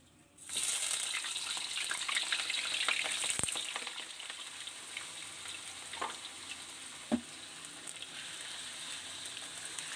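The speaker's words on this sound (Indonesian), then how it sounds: "Sekarang kita akan goreng kentangnya." Oil crackles and sizzles steadily as potatoes fry in a pan, with a few clinks and stirring knocks over the bubbling hiss.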